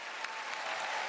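Applause from a comedy gala audience, a steady dense wash of many hands clapping at moderate level, with a few sharper claps standing out, and no talk over it.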